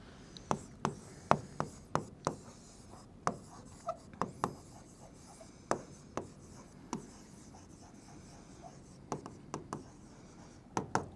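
Chalk or marker writing on a board during a Class 10 maths lesson on quadratic equations: quiet, irregular scratchy strokes and taps spread across the span, close and alone without talk.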